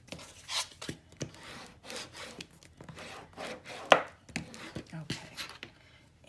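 Glued Tyvek craft pieces are burnished by hand, making soft, close rubbing and scuffing strokes in an irregular rhythm with one sharper tap near the middle, fairly quiet overall.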